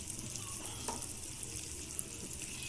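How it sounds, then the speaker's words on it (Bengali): Chopped onion stirred in a hot pan for spicy chili chicken, a steady broadband sizzle with faint scraping stirs and a couple of small clicks, close and continuous with no talking. "তারপরে একটু ভালো করে নাড়তে হবে।"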